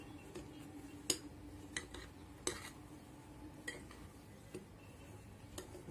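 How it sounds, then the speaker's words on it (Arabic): A spoon stirs sahlab drink powder with coconut and other ingredients in a bowl, giving faint, irregular clinks and taps against the side over a quiet background. "هنقلب كل المكونات مع بعض كده"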